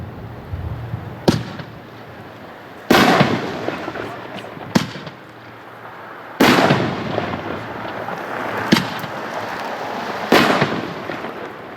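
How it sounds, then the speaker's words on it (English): Red, white and blue 5-inch 60-gram artillery shell fireworks boom outdoors in a series of about six sharp launches and bursts spaced a second or two apart, loud with crackling tails, while people talk faintly in the background. "red, white, and blue, 5-inch, 60-gram artillery shells"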